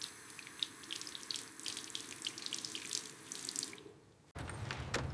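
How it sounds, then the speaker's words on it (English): Tap water runs steadily into a bathroom sink during handwashing, a continuous splashing stream that cuts off abruptly near the end and gives way to a different, quieter room tone. "I wash my hands in the bathroom."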